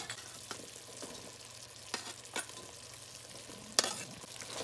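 Onions stirred into chicken stew cooking in a pot, a soft continuous sizzle with a few scraping strokes of a spoon against the pan and one sharper clink near the end.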